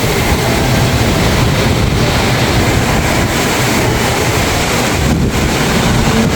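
Steady, dense rushing noise of heavy rain outside, heard from indoors, loud and continuous throughout, with no voices.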